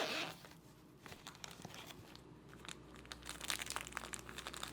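Plastic crinkling right beside a Hollyland Lark M1 wireless microphone, a quiet scatter of close, irregular crackles and rustles that continue throughout without any talk.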